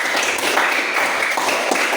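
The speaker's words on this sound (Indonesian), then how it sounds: "Tepuk tangan untuk kita semua." Classroom applause after student presentations, a continuous dense patter of many hands clapping together, fairly loud and even for the whole stretch with no talking.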